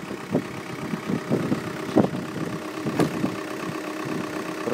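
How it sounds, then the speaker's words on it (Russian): A used Skoda diesel engine runs unevenly at a car market, its idle broken by irregular jerks and bumps over a steady rumble, close and moderately loud. "Работает рывками двигатель."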